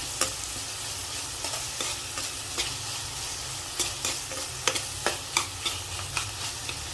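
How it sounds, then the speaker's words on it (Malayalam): Leftover chapathi chivda with tomato is stirred and sautéed in a pan, a steady soft sizzle punctuated by repeated scraping clicks of the spatula, close and alone without talk. "വഴറ്റിയെടുക്കാം."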